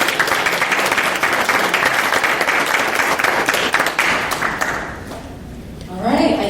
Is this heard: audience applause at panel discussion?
yes